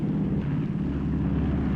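Steady, loud droning roar of propeller bomber engines on takeoff for the Nagasaki atomic bombing mission, a constant low rumble with no pauses, heard alone.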